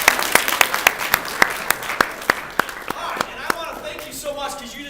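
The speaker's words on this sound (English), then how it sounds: "just give yourselves a big round of applause for being here" A seminar audience gives itself a round of applause: sharp, evenly spaced claps in a steady rhythm, close and crisp at first, thinning and fading toward the end as murmuring takes over.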